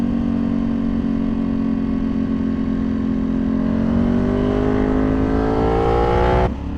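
A tuned Ducati Panigale V2 engine revving close by, a loud sustained drone whose pitch climbs steadily before cutting off sharply near the end.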